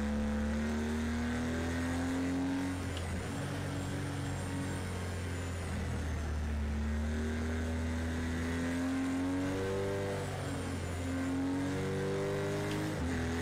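A race car engine in the racing video game Project Cars 2 drones steadily, its pitch rising and falling as the car accelerates and shifts through a lap, heard alone at moderate level.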